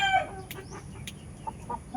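Indio Gigante chickens, a giant breed, cluck in short repeated bursts with a faint rooster-like note at the start, fairly quiet and steady against low background noise with no talk.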